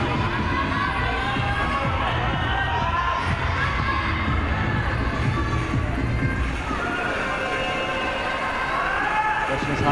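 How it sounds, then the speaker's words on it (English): A Japanese crowd at a sports event cheers steadily and loudly, a dense continuous roar with rising calls, under a commentator's voice. "Every move greeted by a cheer by the Japanese crowd"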